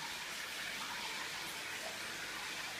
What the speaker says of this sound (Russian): Вот из крана наливаете.